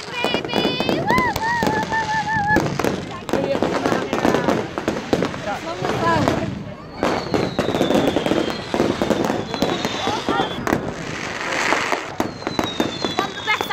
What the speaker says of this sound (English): fireworks don't know what way it's going